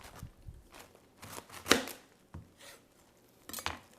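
Knife chops through corned beef on a cutting board in a few scattered, sharp strokes, one much louder cut near the middle, with quiet gaps and faint handling noise between.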